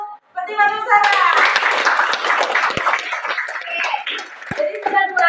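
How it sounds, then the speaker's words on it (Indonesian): Clapping from a classroom audience of children after a quick silence, a lively burst of hand claps mixed with young voices chattering, thinning out near the end. "Tepuk tangan untuk Fatima Nusara"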